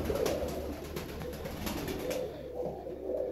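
Fancy ornamental pigeons coo softly in a loft, low murmuring calls repeating at a moderate distance amid faint ambient noise, with no speech.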